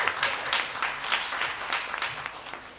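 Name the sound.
audience applause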